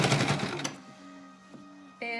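A sewing machine stitches bias tape onto the layers of a fabric face mask. A dense, rapid stitching burst is followed by quieter running, with a person talking over it.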